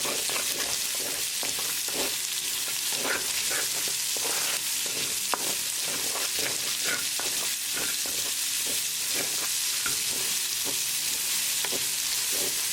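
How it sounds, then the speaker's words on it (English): Chopped onion frying with garlic and ginger in a hot pan gives a constant, close crackling sizzle, broken by repeated scraping strokes of a spatula as it is stirred. "So cook onion for like a minute or so"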